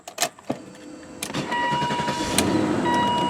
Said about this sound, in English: Let me start her up for you.